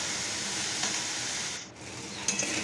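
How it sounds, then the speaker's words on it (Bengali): Masala for a Bengali fish roe curry being stirred and fried in a pan, with a steady close sizzle and faint scraping of the spoon running throughout. "দিয়ে মশলাটা ভালো করে নেড়ে চেড়ে কষিয়ে নেবেন"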